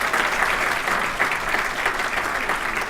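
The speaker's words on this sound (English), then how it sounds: "Another round of applause for Donna." Audience applause from a Torrance Area Chamber of Commerce crowd, a dense, steady wash of many hands clapping at an even level for the full stretch, with no voices standing out.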